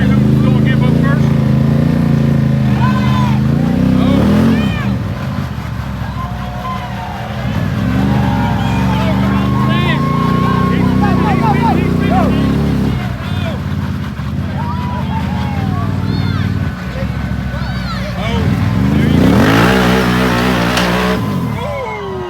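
Can-Am and Polaris off-road side-by-sides revving hard in a tug-of-war at an off-road park festival, loud sustained engine drones rising and falling together, with crowd voices and speech over them.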